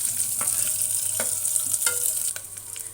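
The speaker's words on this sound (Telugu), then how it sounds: "ఆయిల్లోనే అన్నీ వేయించుకుంటున్నాము" Lentils and onions fry in oil in a pan with a steady close sizzle, while a spatula scrapes and taps a few times.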